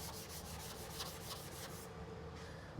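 A sanding block wrapped in 400 grit sandpaper rubs back and forth in quick, regular strokes, a close, soft rasping that fades slightly toward the end.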